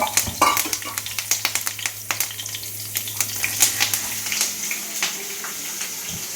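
Egg sambar cooking in a pan, stirred with a utensil: a close series of scraping clicks and soft sizzle over a steady low hum, without speech.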